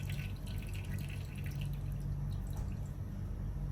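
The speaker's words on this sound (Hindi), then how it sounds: "सबसे पहले हम इसमें डालेंगे जी ऑयल, तकरीबन 1 कप ऑयल डालेंगे" Vegetable oil, about a cup, poured into a pan while cooking a potato and capsicum dish, giving a steady liquid pouring and dripping sound with a low hum, continuous and close, with no talking.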